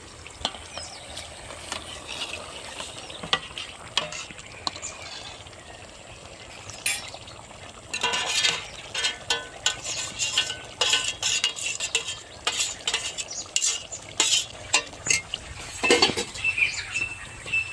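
Roasted eggplant olo being stirred in a cooking pot at a farm, with irregular scraping and clinking of a spoon against the pot and soft sizzling, growing busier and louder in the second half.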